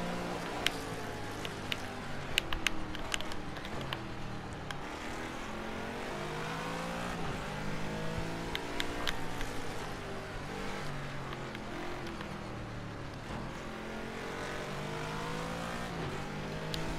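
A racing game car roars steadily around a track corner. The engine pitch sweeps up and down with each gear change and lift, close and loud, with a few sharp clicks and no talking.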